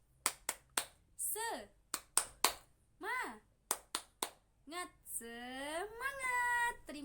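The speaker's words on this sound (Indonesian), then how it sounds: "kita tepuk semangat dulu ya anak-anak" Schoolchildren and their teacher perform a rhythmic clapping cheer in a classroom, sharp clap bursts alternating with short chanted and sung vocal phrases, ending on a long drawn-out shouted call.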